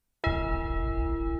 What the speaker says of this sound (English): the clock tower rings out with 11 bellowing chimes.